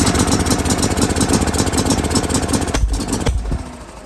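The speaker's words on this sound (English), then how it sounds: "You hear the way it fires, which tells you that it's fired every once in a while, spitting a sputter" A gas Club Car DS golf cart engine runs rough and sputters, a loud close uneven mechanical rumble with choppy firing pulses that thins out near the end.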